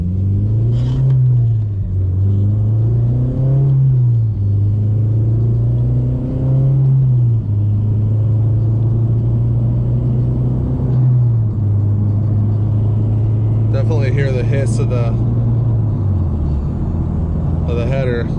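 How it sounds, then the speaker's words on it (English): An 8th generation Honda Civic Si with a full 76mm race exhaust: deep drone climbs in pitch, drops at each gear change, then climbs again, a steady muffled rumble heard from inside the cabin with windows up. "Here's some regular throttle just rowing through the gears."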